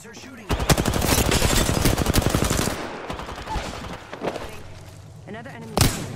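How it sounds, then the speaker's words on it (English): Rapid bursts of automatic gunfire from enemies in a battle royale video game, dense and loud for the first few seconds, then sparser shots and a final sharp crack, with a voice talking over it. "The enemies are shooting at us."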